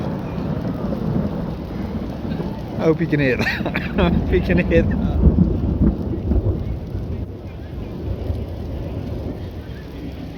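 Thunder rumbles amid rain during a thunderstorm at a balloon festival, low and heavy, with a person talking over it and the rumble swelling in the middle before fading.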